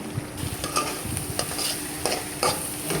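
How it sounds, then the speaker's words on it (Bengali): Kohlrabi frying with egg in a pan gives a steady close sizzle, broken by several sharp scraping stir strokes that land at irregular moments. "ডিম দিয়ে কহি ভাজি করলাম।"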